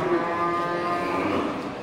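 An Aceh cow at a busy livestock market lets out a long, loud, close moo with a drawn-out tonal bellow over faint background market noise.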